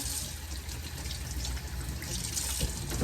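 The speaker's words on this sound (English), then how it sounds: "So I'll give this just a final rinse here." Running tap water flows steadily into a sink while a fish is rinsed clean for a Guyanese-style lat pat banga curry, a continuous near splashing wash with no talk.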